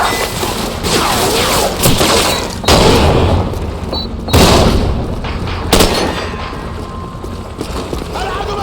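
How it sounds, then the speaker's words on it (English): Flashbang grenade going off in Call of Duty 4: Modern Warfare, loud booming blasts among sustained gunfire and crashing battle noise, heavy and close throughout. "flashbang."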